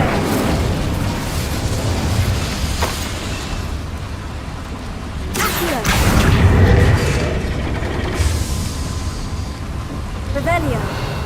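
A Hogwarts Legacy Incendio fire spell bursts inside a small mine, giving a sudden loud whooshing blast amid steady booming, crackling game sound, with a voice talking in the background.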